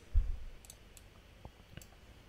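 A computer mouse clicks on a button in Illustrator, with a soft thump followed by a couple of faint, brief clicks against quiet background hiss.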